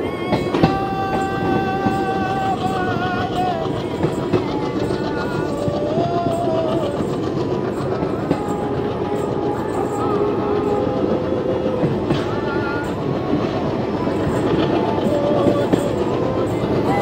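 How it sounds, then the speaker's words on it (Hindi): Train on the Barmer to Munabao line near the India–Pakistan border picking up speed, a loud continuous rumble with rhythmic clickety-clack of wheels over rail joints and squealing metallic tones, heard from inside a carriage. "ट्रेन ने अपनी स्पीड पकड़ ली है और फुल स्पीड"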